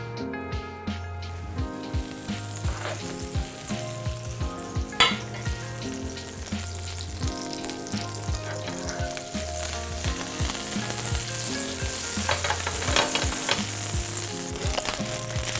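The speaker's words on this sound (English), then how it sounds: "I've got a hot pan here. I'm going to add a little oil to my pan. And I'm going to add this butter." Butter and oil sizzling in a hot pan before shrimp go in for fettuccine Alfredo, a loud continuous crackling hiss with occasional sharper pops and clinks, over soft background music.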